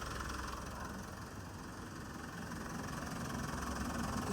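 A Mitsubishi Montero Sport with a 4D56 diesel engine idles, a steady low rumble with a faint knocking clatter, close and even, with no talking.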